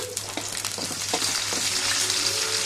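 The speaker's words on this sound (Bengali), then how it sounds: "পেঁয়াজ কুচি দিয়ে একটু নেড়ে চেড়ে নেব" Chopped onions sizzling in hot oil while cooking a loitta fish bhuna, with close, steady frying crackle and a few clinks and scrapes of a spoon stirring them in the pan.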